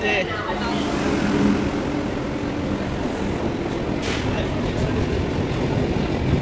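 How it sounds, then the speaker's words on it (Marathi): Steady rumble and broadband noise fill the interior of a moving express train bound for Vrindavan, with faint voices mixed into the continuous track noise throughout. "जसे आम्ही ट्रेनमध्ये बसलेले आहेत आणि मजा येतोय."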